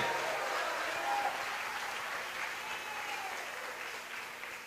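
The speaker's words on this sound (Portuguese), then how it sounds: "Aplauda Jesus de Nazaré." A church congregation applauds during a thanksgiving worship service, a dense steady wash of clapping that holds at an even level, then gradually thins toward the end, with faint tones beneath.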